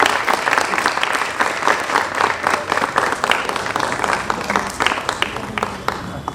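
Sustained audience applause for Naveen at a theatre discussion session, dense and steady clapping from a sizeable crowd lasting several seconds without a break.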